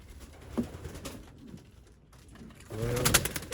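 Young racing pigeons in an aviary coo softly in low rounded calls, with a fuller cooing burst near the end over light rustling and background noise.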